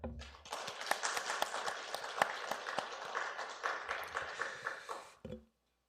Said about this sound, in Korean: 하나님께 영광의 박수 올려드리기 원합니다.